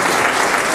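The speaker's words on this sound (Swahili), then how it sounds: "Tupigie Bwana Yesu makofi" Guests at a Maasai church wedding break into a brief burst of loud, dense clapping in praise of Jesus.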